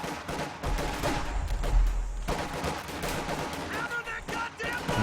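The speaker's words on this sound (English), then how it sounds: "we have a combination of Grenadiers and Vaux Grenadiers all firing on this house with" Grenadiers and Volksgrenadiers in Company of Heroes 2 fire their rifles at a house held by riflemen during a 2v2 battle. The sound is a dense, continuous crackle of overlapping gunshots with rumbling battle noise beneath it.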